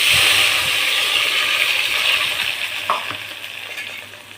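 Curry leaves and ground tomato, onion, chilli and garlic paste sizzle loudly in a frying pan for chutney, a steady close hiss that eases slightly toward the end, with a couple of soft stirring knocks.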